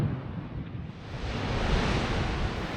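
Steady wind roars and buffets across the microphone at a clifftop campsite in Australia, a broad rushing noise that swells slightly toward the end, with no voices.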